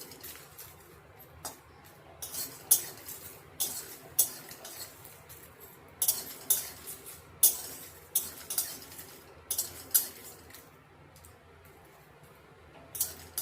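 A spice mix for vegetarian ghugni is dry-roasted in a pan, with a spatula clinking and scraping against the metal in irregular sharp taps, fairly quiet and close, with no one speaking.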